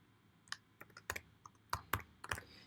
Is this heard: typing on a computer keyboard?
yes